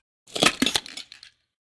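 Glass shatters in a motorcycle mechanic simulator game, a short close burst of several sharp cracks and clinks over about a second, then quiet.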